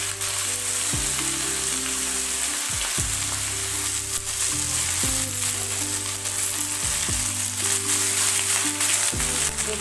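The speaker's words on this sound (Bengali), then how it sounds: "এরপর বেশ কিছুক্ষণ হাই ফ্লেমে ভেজে নেব।" Hyacinth beans and onion greens fry hard in a wok over dry red chillies, a steady loud sizzle running the whole time with periodic scrapes and stirring clatter.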